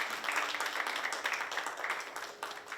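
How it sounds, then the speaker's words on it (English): Steady audience applause fills a Hindustani classical music concert hall at a temple, dense and sustained, with no voices over it. "Please give a big round of applause to him"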